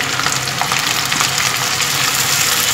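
A paste of onion, cashew and green chili fries in a pan for a shahi paneer dish, giving a loud, continuous close-up sizzle with crackling spits and faint stirring scrapes.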